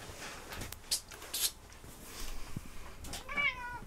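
A cat meows several times at close range, a couple of short calls and then a longer rising meow near the end, in a quiet room.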